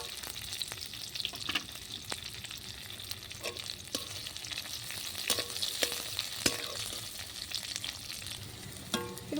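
Chopped onion, green and dried chillies and garlic fry in hot oil, a steady crackling sizzle broken by sharp spatter pops and occasional spatula scrapes, close by with no voices.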